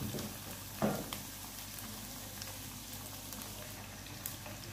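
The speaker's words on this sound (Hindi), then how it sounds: "आपको इस लहसन और ऑयल के साथ इसको थोड़ा सा फ्राई करना है" Beef frying with garlic and oil over a high flame, a faint, continuous sizzle with a soft stirring clatter near the start, heard alone without talk.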